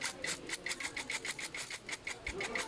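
Power screw gun driving bolts into a black mesh office chair during assembly, a quick series of short whirring bursts repeating in a steady rhythm, close and moderately loud, with faint room noise between.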